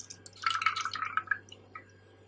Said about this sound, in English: Let me pour it in here. I'm going to pour it in here